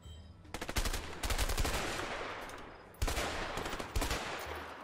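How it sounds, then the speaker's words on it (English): Rapid bursts of gunfire from two guns in the video game A Way Out, loud clustered shots in rhythmic volleys that pause briefly and resume, with no talking over them. "Alright, I'm gonna start shooting."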